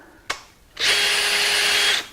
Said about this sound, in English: I just put my drill on fast and it knocks the excess off.